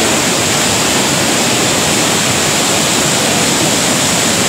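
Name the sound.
water rushing through a breach in a dam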